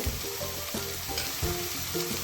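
Ginger garlic paste and onions sizzle loudly in a hot pan for a Kerala-style chickpea curry, a dense continuous frying hiss broken by repeated scraping strokes of a stirring spoon.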